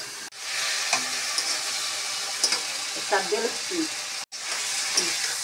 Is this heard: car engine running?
no